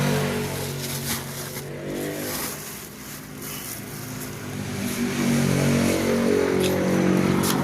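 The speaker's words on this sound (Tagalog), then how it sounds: "ito yung ating makina" A car engine runs steadily during radiator refilling, a loud continuous hum with a low rumble that dips slightly midway and then rises to a fuller, stronger drone near the end.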